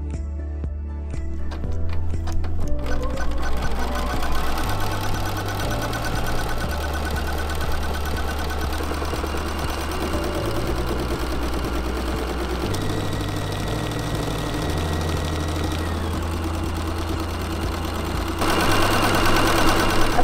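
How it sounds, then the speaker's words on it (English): Embroidery sewing machine running an in-the-hoop final stitch sequence: a loud, continuous mechanical whir whose pitch steps up and down as the stitching changes, with no talking. "we're going to put it back on the machine and we'll sew the final stitch sequence"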